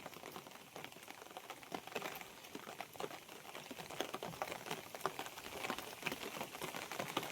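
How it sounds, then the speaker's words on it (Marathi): Heavy rain pours steadily on a farm, a dense, continuous patter of drops hitting surfaces nearby, with sharp ticking impacts throughout and no voices. "पाऊस तर वरून खूप चालू आहे"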